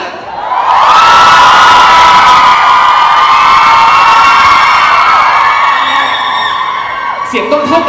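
A large audience at an OPPO A3 Series Mission Day event cheers and shrieks loudly for Ling Ling, a sustained wall of high, excited voices that swells quickly and stays strong before easing off near the end.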